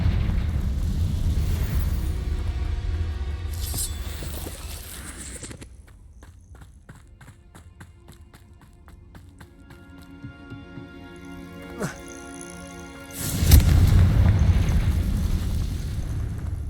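A Confringo blasting spell in Hogwarts Legacy bursts into one loud, sharp explosion near the end, followed by a rumbling tail. Before it comes a stretch of quieter footsteps and clattering.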